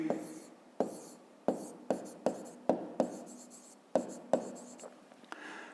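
Handwriting during a fifth-grade math exercise: a pen or pencil taps and scratches in about a dozen short strokes, each a crisp onset followed by a brief scribble, fairly close and quiet with no talking.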